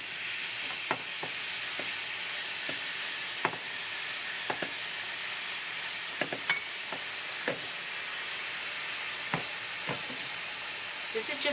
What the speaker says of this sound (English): I'm just going to add just a little bit of water to kind of steam it a little